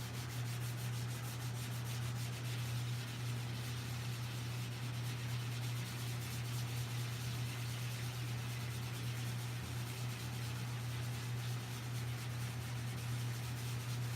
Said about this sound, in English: What I am doing is just enough to just let the sandpaper work.